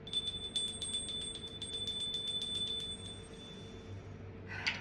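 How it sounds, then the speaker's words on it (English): A small hand bell rings during a tarot reading, a rapid run of bright, tinkling strikes that fades after about three seconds, fairly quiet in a still room. "I'm gonna ring my bell."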